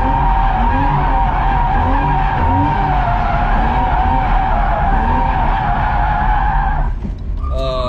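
A car drifting with tires skidding, a steady, loud screech of rubber over a revving engine that holds for several seconds before easing off near the end, with no talk.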